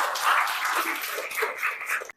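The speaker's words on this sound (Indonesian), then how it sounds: "Beri tepuk tangan ya." Audience applause after a university teaching presentation, a brief burst of clapping from a small crowd that holds steady for about two seconds before cutting off abruptly.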